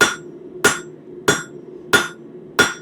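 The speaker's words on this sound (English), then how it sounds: "we're using our favorite hammer, the cross peen hammer" Cross peen hammer striking hot metal while tapering a forged leaf stem on an anvil: five sharp, ringing blows at an even, unhurried pace, close and loud.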